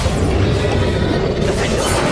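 Spell blasts and explosions from the Hogwarts Legacy video game form a dense, loud, rumbling barrage of booms and crashes that continues without a break for the whole stretch, with no voices.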